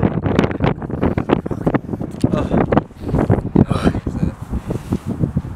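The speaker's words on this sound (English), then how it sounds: "Don't know if this is getting the wind on." Wind buffets a microphone outdoors on a sunny day, heavy gusty rumbles and thumps coming in irregular bursts, with a person's voice mixed in.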